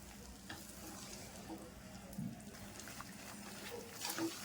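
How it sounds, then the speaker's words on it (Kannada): Wheat flour frying in ghee on a low flame for halwa, a soft faint sizzle with occasional stirring scrapes of the spoon, quiet and continuous with no talk. "ಈಗ ಚೆನ್ನಾಗಿ ಫ್ರೈ ಮಾಡ್ಕೊಳ್ಳಿ"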